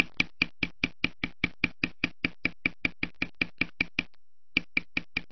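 A leather beveler runs along the edge of a piece of leather, making a steady series of crisp, evenly spaced clicks, about four per second, with one short pause near the end; close and clear, with no talk.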